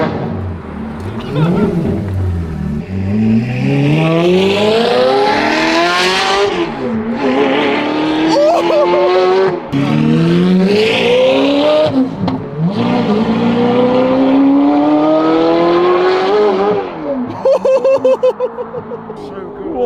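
A Ferrari F430 supercar, restored after crash damage, revs hard and drives off in loud rising and falling engine sweeps with brief gear-change dips, a sustained roar running close throughout.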